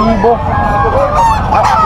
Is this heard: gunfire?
no